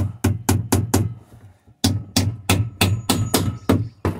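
Sharp hammer blows on wooden boards during construction of a wooden chicken coop, ringing out close and loud in a quick run of about five strikes, a brief pause, then another steady series of seven or so, with no talking.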